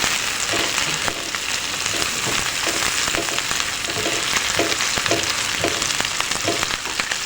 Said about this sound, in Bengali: হাফ চামচ রসুন বাটা এবং আদা বাটা হাফ চামচ অ্যাড করে দিলাম তারপরে একটু নেড়ে চেড়ে নিচ্ছি